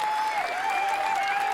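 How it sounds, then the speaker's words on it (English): A short burst of steady applause from a crowd, dense clapping throughout with a faint tonal hum underneath. "I think they need a round of applause for that."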